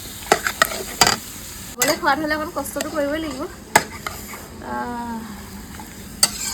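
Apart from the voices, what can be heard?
chicken frying and being stirred in a kadai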